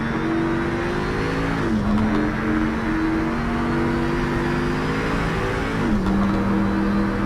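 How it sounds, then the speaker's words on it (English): A Dodge Viper's V10 engine in the Project Cars 3 racing game, droning steadily at high revs with brief dips at two gear shifts, loud and continuous with no talking. "I immediately jumped into the Dodge Viper, a car new to the series and one that boasts a V10 engine"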